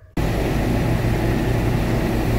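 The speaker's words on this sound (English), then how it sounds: "Sorry about the fan noise" A loud fan runs steadily in a workshop where a truck cab and bed underside are being sprayed with Raptor bedliner, a constant broadband whoosh with a low hum that kicks in abruptly and holds without pause.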